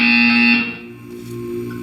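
A harsh, loud electronic buzzer from the video game Portal 2 sounds alone for about half a second, then cuts off, leaving a low hum.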